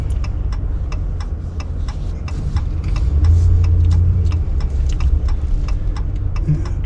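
A car creeps through town traffic on Main Street in Southwest Harbor, Maine, its engine a steady close hum under a regular ticking click that repeats throughout.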